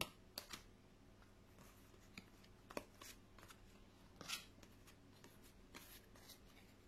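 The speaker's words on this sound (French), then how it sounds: "Attends, je mélange les cartes." Tarot cards shuffle in soft, quiet bursts of riffling and flicking, spaced irregularly across a hushed room with no speech.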